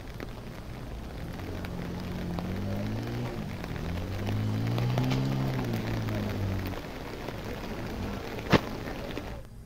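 Heavy monsoon rain in Himachal Pradesh pours down as a steady, dense hiss, with a low droning rumble underneath and one sharp crack near the end.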